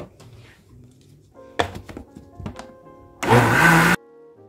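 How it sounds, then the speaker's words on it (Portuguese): A blender briefly pulses Portuguese pie batter containing flour and cornstarch, first with short bursts and then one loud full blend near the end. "E vamos dar mais uma batidinha."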